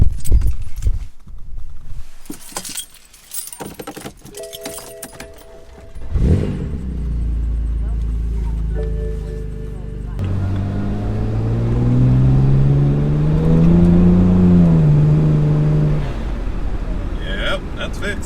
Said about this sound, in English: So let's go ahead and get this cold start.